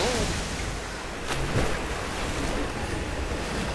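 Water rising in a flooded chamber in the Tomb Raider video game, a continuous rushing, surf-like wash with a windy hiss that stays loud and steady, with a brief splash in the middle and no speech.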